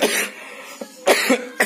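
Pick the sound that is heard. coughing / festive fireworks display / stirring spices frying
coughing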